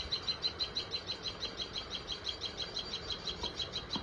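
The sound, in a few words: tailorbird calls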